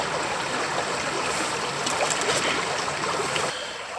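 A creek in Tasmanian rainforest flows with a steady, broadband rush and gurgle of water, close and continuous, with a few brief splashy bursts near the middle.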